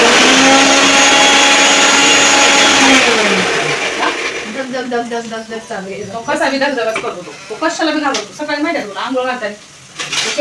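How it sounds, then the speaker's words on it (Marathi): A loud electric mixer grinder whirs with a high motor whine for about three seconds, then winds down as people start talking over the fading hum. "मिक्सर आवाजाने"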